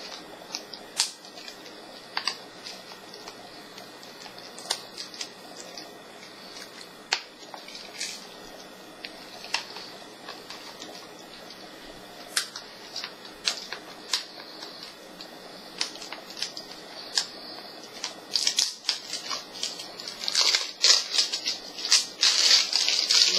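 Plastic wrap being peeled off a music CD, a close, thin crinkling with scattered sharp crackles and ticks, growing busier and denser toward the end, with no talk.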